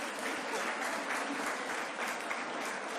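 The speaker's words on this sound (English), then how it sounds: "Let's give them a big hand of applause." An audience at a technology seminar on sustainable energy claps together, a dense, steady patter of hands that fills the room from start to finish.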